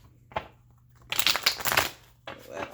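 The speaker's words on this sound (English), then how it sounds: "One more shuffle, and then we'll get clarifiers for Aries through Pisces." A deck of tarot cards is shuffled by hand in a few quick riffling bursts with short pauses between them, heard up close and on its own.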